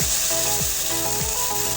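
Pancake batter fries in a pan with a steady, bright sizzle that runs throughout, with a few low ratcheting clicks underneath.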